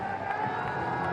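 A cricket crowd cheers and whoops during a Bangladesh vs New Zealand one-day international, a dense, steady roar of many voices with no gaps, loud and close around.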